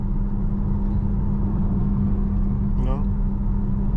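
A Chevrolet Camaro SS muscle car engine rumbles steadily and loudly while driving through a neighborhood, a constant low drone throughout with a brief higher whine near the end, no talking.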